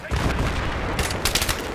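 Rapid gunfire in the video game Battlefield 3, bursts of shots cracking over a busy game background, loud and close across the short stretch, with a faint voice in the mix.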